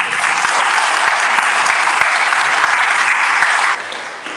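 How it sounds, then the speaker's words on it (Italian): An audience at a talk on endometriosis breaks into loud sustained applause of encouragement, a dense even clapping that dies down near the end, with no voices over it. "Fare un bel applauso di incoraggiamento."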